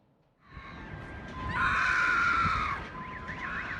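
High, sustained human screams ring out during a missile strike on Kyiv, rising after a quiet start and wavering over a rumbling outdoor background, distant but piercing.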